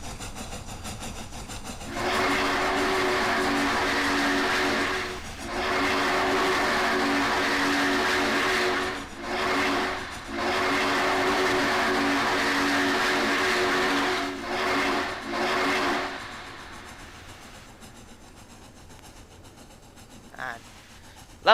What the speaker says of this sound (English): Now we can speed up a little bit on the final leg of our journey to the marshalling yard